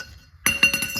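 Metal tools clink against each other during an Audi suspension install, a quick cluster of four or five bright, close chinks after a brief quiet moment.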